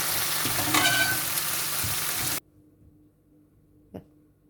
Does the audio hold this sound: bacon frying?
yes